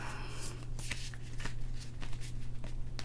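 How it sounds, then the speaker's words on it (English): Playing cards, a tarot-style deck, being shuffled by hand in a quick irregular flutter of riffles and slides, close and continuous over a low steady hum. "let's keep on shuffling"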